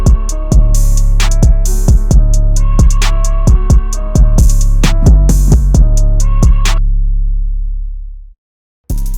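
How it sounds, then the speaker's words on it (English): A sampled hip-hop beat, with punchy drum hits and deep sustained bass under a processed, pitch-swept drum effect, loud and close, cutting out abruptly near the end. "it's basically a drum kind of effect, is the Wap Effect, which is sounds like this."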